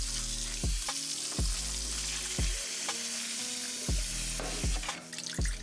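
Cooked noodles are strained in a kitchen while a pan of salmon sizzles steadily, with several sharp clanks and wet splashes over the continuous frying hiss, close and with no talking.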